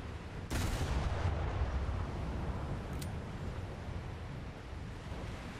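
Naval HE shell barrage from warships in War Thunder: one heavy boom opens over a constant roar of sea and wind, with a sharp crack about two and a half seconds later, then steady rumbling wash.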